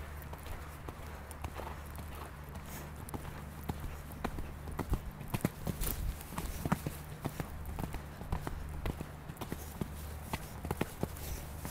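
A horse cantering over a show-jumping course, its hoofbeats thudding in a steady rhythmic clip-clop with heavier landings after the jumps, moderately near, over a constant low background hum.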